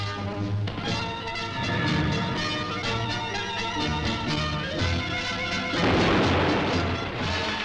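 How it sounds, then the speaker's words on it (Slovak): A huge underwater explosion blasts Ripple Rock, a treacherous shipping hazard, with heavy rumbling booms that swell into a loud roaring burst near the end, set under dense continuous noise. "môžeme vám teda ukázať i tento obrovský výbuch"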